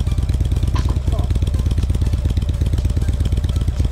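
A Roblox motorbike engine drones loud and close in a steady, rapid pulsing rhythm for the whole stretch, with a brief faint voice near the start.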